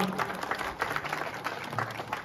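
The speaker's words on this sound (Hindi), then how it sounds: "ताली तो बजा दो यार आपको" Audience applause at a Sant Ravidas Jayanti gathering in Hisar, Haryana, a steady wash of many hands clapping that rises and falls, with some voices mixed in.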